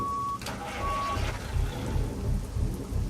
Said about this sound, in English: Wait till this thunder clears.